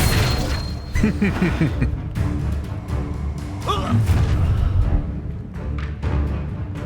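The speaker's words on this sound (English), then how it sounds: "Expelliarmus" Expelliarmus disarming spell cast during a duel in the Hogwarts Legacy video game, a loud, dense stretch of booming magical bursts and crackling impacts with a brief rising whoosh midway, layered over a continuous low rumble and faint voice-like sounds.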